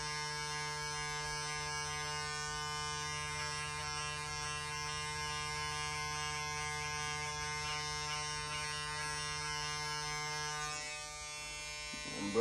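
Electric hair clippers run at full speed with guard one fitted and the lever closed, giving a steady high buzz for about eleven seconds. The hum dips briefly near the end, then the motor picks back up. It sounds close, with no talking.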